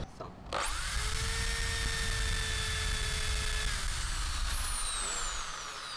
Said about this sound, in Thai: เจาะเข็มขัดแชมป์กันแล้วนะฮะ